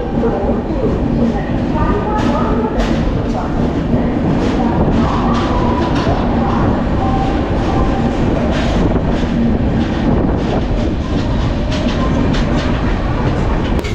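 Rupasi Bangla Express train 12883 running on the rails near Kharagpur, a loud continuous rumble with rhythmic clickety-clack from the wheels throughout, heard from inside the carriage.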